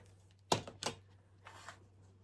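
Quilt fabric for a churn dash mini quilt is cut with two sharp, close chops in quick succession, followed by a softer sliding rasp a moment later, over a faint steady hum.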